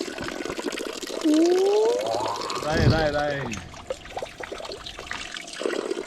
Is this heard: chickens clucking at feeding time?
no